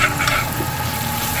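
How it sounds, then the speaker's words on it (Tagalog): Garlic frying in a pan as the first step of a home-cooked sinigang, a steady close sizzle with faint stirring, no voices. "igigisa ko muna ito"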